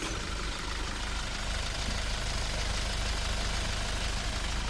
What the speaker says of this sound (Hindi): अब गाड़ी स्टार्ट करते हैं।